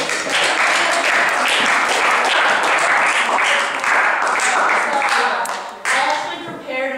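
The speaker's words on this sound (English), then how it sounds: "So you can give a big round of applause for Katie Snyder." An audience at a youth church testimony event gives a big round of applause, dense, loud clapping that runs steadily for several seconds, dips briefly, then picks up again.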